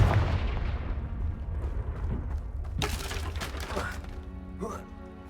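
In Hogwarts Legacy, the Confringo blasting curse sounds as a sharp cracking blast mid-scene, with softer crackles and shattering noises around it, set over steady low game ambience and some voice-like sound.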